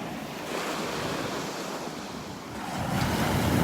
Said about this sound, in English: Some little waves coming in.